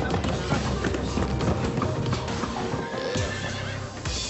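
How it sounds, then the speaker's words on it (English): Horses aboard a livestock delivery truck neigh and whinny repeatedly while hooves clop and thump on the truck floor, a busy, close, continuous mix with faint voices in the background. "He'll be delivering 20 horses to owners between Brisbane and Cairns."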